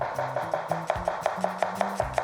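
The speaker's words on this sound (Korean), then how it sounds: "양파를 되게 얇게 자를 거예요" A knife thinly slices an onion on a board in quick, even strokes, about five crisp taps per second, close and clear with no talking.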